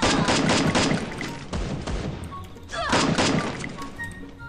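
Shotgun blasts and gunfire in the mobile game Free Fire, loud heavy bursts with crashing impacts packed together over a few seconds, close and dense.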